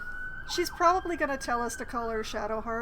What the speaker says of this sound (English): I am sorry about the sirens in my background.